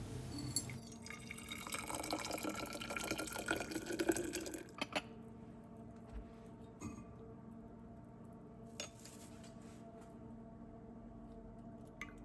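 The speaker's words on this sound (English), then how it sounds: "a little strainer works fine for pouring in the hot tea" Hot tea is poured through a small strainer, giving a trickling, splashing fill for about five seconds, then it stops, leaving quiet room tone broken by a few faint clinks and drips.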